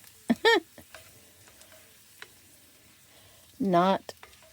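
Pre-cooked bacon sizzles quietly in a frying pan with a soft, crackling hiss, interrupted by two short bursts of a voice.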